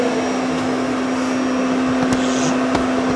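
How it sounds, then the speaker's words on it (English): A Peachtree prototype vacuum runs steadily up close, a loud constant whine and rushing airflow with a few faint clicks, no speech. "This is a prototype vacuum that Peachtree is going to have"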